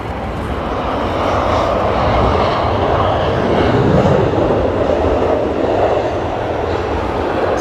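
Airbus airliner with CFM56 engines arriving at Heathrow in wet, windy weather, a loud continuous broadband jet roar holding steady and swelling slightly mid-pass, with no talk.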